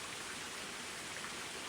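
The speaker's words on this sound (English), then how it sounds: "There's Bear Creek" Bear Creek runs as a soft, continuous wash of flowing water along a Colorado Trail campsite near Waterton Canyon, faint and steady with no voices.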